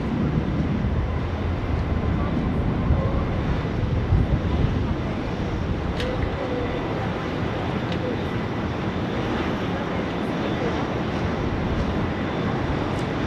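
Steady, loud broadband roar of a jet airliner, a Singapore Airlines A380, near Sydney Airport runway 16 right, filling the whole clip with wind buffeting and faint talk over it.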